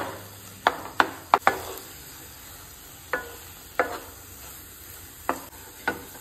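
Sweet potato halwa is stirred and roasted in ghee, a faint sizzle underlying a series of sharp, distinct clacks and scrapes of a spoon against the pan at irregular intervals.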